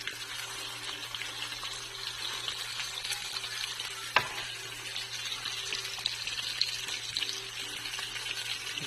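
A steak frying in a pan gives off a steady, moderately loud sizzle across the whole stretch, with a single sharp click near the middle and no talking.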